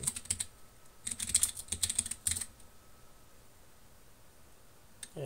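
Bursts of fast clicky typing on a mechanical keyboard, close and fairly quiet, in several short runs with pauses, then near silence apart from one last keystroke at the end.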